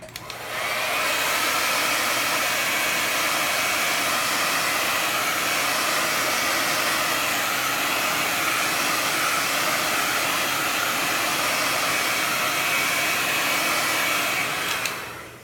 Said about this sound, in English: I'm going to blow dry this a little bit.